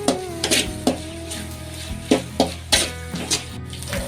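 Fenugreek leaves fry on low flame in a pan for egg rice, a soft sizzle under a background tone, punctuated by repeated clinks and scrapes of a spoon stirring in quick bursts.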